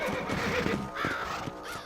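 A horse whinnies loudly and close in Red Dead Redemption, with a long wavering neigh followed by shorter snorting calls over a dense rustling background.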